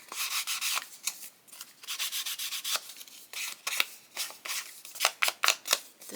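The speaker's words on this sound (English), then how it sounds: "I'm going to just ink this up directly to the paper here." An ink pad is rubbed and dabbed directly onto paper, making soft, close scratchy swipes in repeated strokes that end in a few sharper taps.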